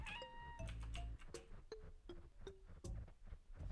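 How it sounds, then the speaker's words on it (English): Cat meows from the Webfishing video game ring out as a quick series of short, pitched mews and a drawn caterwaul, close and clear over faint background game noise, with no talking. "Wait, that's a cat sound effect."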